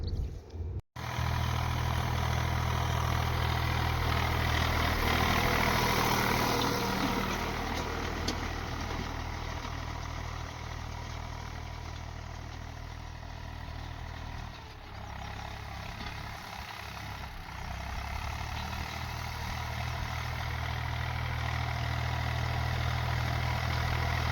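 A tractor's heavy diesel engine idles steadily in a farm field throughout, a deep continuous rumble with a brief dip near the start and no voices.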